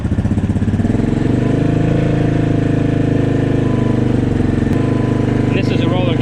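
A modified Yamaha Grizzly 700 ATV with a hot cam, ported head and Coops clutch runs close and loud, its steady throbbing engine drone holding through the whole stretch, with the revs shifting slightly near the end.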